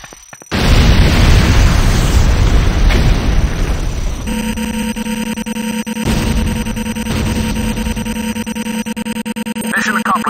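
A loud nuclear strike explosion erupts in Command & Conquer Renegade, a sudden massive roar followed by a long rumbling, crackling tail that settles into a sustained droning hum, with faint voice in the mix.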